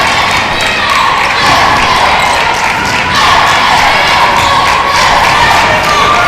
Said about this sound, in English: Crowd trying to get into it.